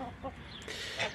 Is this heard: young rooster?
yes